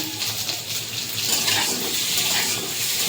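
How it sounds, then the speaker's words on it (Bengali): Pieces of taro frying in oil in a pan, a steady loud sizzle and crackle that runs unbroken and close throughout. "ঘাটি কচুটা একটু ভাজা হোক"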